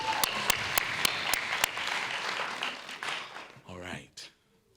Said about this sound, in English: Y'all give him another hand clap.